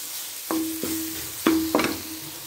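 Bitter gourd curry masala cooking in a pan with fried bitter gourd and onion, giving soft sizzling with a few distinct clanks and scrapes of stirring over a steady background tone.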